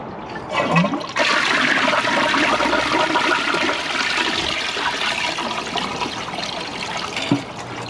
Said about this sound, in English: Second flush, let's see if it unclogs itself.